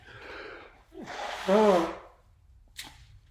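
A loud, wet nose blow with a honking tone, preceded by a quieter breathy exhale and followed by a short sniff.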